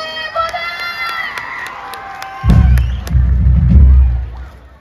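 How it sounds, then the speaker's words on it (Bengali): A large crowd at a college annual cultural festival roars into loud clapping and cheering after a tonal musical passage, with a dense, close wave of applause and shouts that swells and then fades. "সবাই মিলে অনেক জোরে, সবাই মিলে জোরে হাততালি হবে।"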